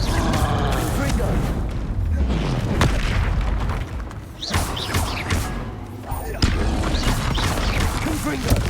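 Loud Confringo blasting-spell explosions in the video game Hogwarts Legacy, heavy booming impacts and crashes piling up in a dense, continuous stream of battle noise with sharp bursts near the middle and end.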